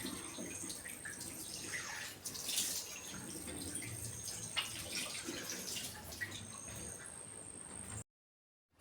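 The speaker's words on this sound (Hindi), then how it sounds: "सुबह उठ के सबसे पहले मैं अपने फेस को वॉश करती हूँ अच्छे से, ऐसे बासी पानी से" Water splashes and trickles in the morning as a woman washes her face with stale water left overnight, a steady running, dripping wash with a few louder splashes, close and unaccompanied by talk before it cuts off.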